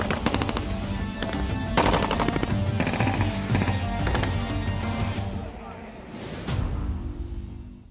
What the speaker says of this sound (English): making quick work of targets with its mounted GPMG